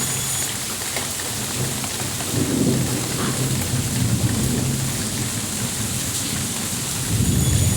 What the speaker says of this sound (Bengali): বৃষ্টি শুরু হয়ে গেছে ঝিরিঝিরি বৃষ্টি নেমে পড়েছে